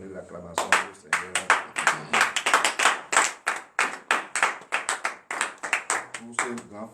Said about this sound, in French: À genoux et donner l'acclamation au Seigneur